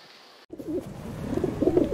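Pigeons cooing in soft, warbling bursts that start abruptly after a brief quiet moment and grow steadily louder and busier, close by with no talking.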